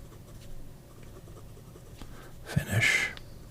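A Wing Sung 930 fountain pen nib scratches softly across paper in faint, close strokes, ending in a slightly louder burst of scribbling.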